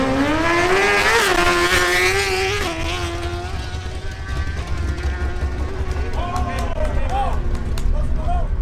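A Suzuki sport motorcycle makes a solo drag-race run, its engine howling loud and close in a continuous rising, shifting roar with steady crowd-like noise underneath.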